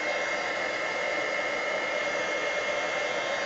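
A heat tool blows a steady, loud, even rush of air close by, drying glue on Dollar Tree dominoes, with no change in pitch or level and no voices.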